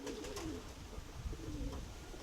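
Domestic pigeon cooing in a loft, two soft rolling coos in succession over a steady low background hum, fairly close and moderately quiet.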